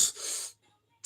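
A small sneeze from a woman with a hissing, hydraulic-press-like burst of breath that fades into quiet, followed by a brief sharp breath at the very end.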